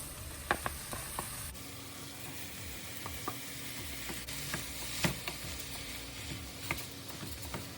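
Ground meat for a shepherd's pie sizzling in a pan, a steady close frying crackle with a few sharp clicks and taps of a utensil scattered through it, no voices.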